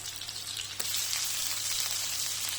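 Fish fries in oil over a low flame, giving a steady, fairly quiet sizzle with a brief crackling burst partway through and no one talking.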